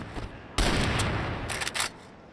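Gunfire in the competitive shooter Crossfire during an esports quarterfinal match: a loud burst of rapid shots breaks in after quiet ambience, with a second short volley near the end, both close and sharp.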